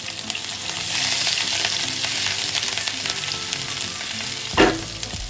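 Cumin, curry leaves, green chili and ginger fry in hot oil for a tempering, a steady close sizzle that runs throughout with a brief louder spatter near the end.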